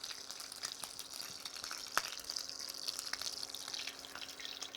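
Butter browning in a dark skillet sputters and crackles with a steady fizzy hiss and scattered pops, fairly quiet and continuous, with no talking.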